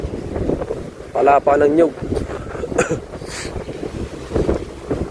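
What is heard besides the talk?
strong wind and sea waves during a storm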